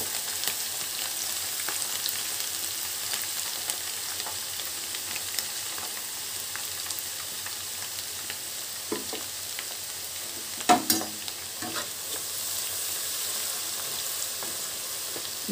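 Garlic sizzles gently in hot oil for a gooseberry pickle, a steady soft crackling hiss with a brief louder clatter of stirring partway through.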